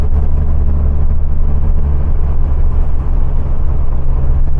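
A car engine fed by Weber IDF carburettors roars loud and steady under heavy throttle, a dense low drone holding without a break from start to finish.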